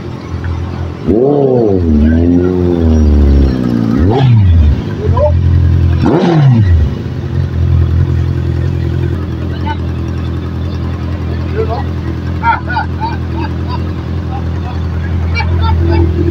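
A BMW R 1250 GS Rallye motorcycle engine revs up and down in several rising and falling sweeps, then settles into a steady droning hum while riding.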